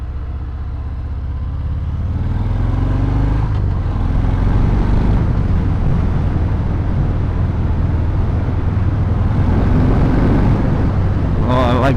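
A 2018 Harley-Davidson Fat Bob fitted with a Screamin' Eagle exhaust rumbles steadily while riding, a deep continuous engine drone that swells after the first couple of seconds and holds loud and close, with wind rush over it.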